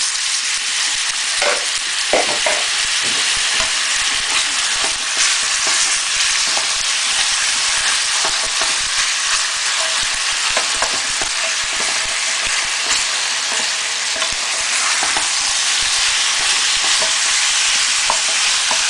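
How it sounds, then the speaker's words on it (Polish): Beef fajitas sizzle loudly and steadily in a hot pan, a dense continuous crackle with occasional scraping stirs, close and unbroken throughout. "Na rozgrzaną patelnię wrzucamy nasze fajitas i smażymy około 10 minut"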